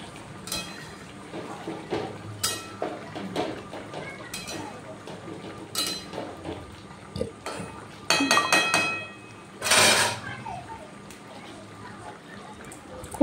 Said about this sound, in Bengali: এবার ভালোভাবে একটু নাড়াচাড়া করব।